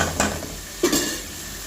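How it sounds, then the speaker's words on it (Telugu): Tomato and curry leaves fry in masala for a fish curry. A low sizzle runs throughout, broken by two brief scraping stirs of a spoon against the pan, close and clear. "ఇవి కూడా బాగా ఫ్రై అవ్వాలి"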